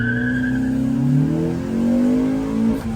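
Suzuki Liana fitted with an R20 engine revving hard at a drag racing event, the loud engine note climbing in pitch over about three seconds with a brief dip near the end.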